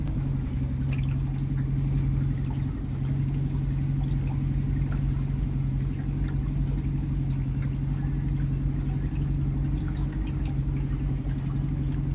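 A motorboat engine drones steadily in Picton Harbour, Canada, a constant low rumble holding close and even throughout with no voices.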